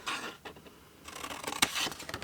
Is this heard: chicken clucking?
no